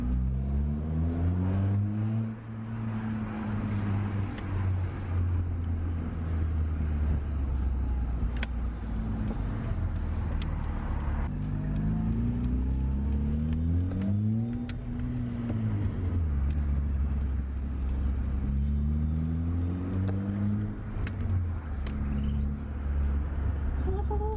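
A Ford Fiesta Zetec S engine droning from inside the car while driving, its revs rising and falling repeatedly over a steady low rumble, with no talking.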